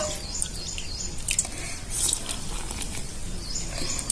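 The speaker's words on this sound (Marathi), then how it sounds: "इथं आपण दोन वाट्या पाणी घालून घेऊया" Water is poured into a bowl of rice flour and besan batter for dhokla, giving a continuous close splashing hiss with small drippy spatters, steady and moderately loud for a few seconds.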